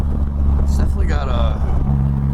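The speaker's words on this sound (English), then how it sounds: "a very raspy exhaust note. I'm not quite sure if I like it or not, but it's very raspy." A Polaris Slingshot with a manual stick shift rolls along, its raspy exhaust droning steadily and fairly loud beneath someone talking throughout.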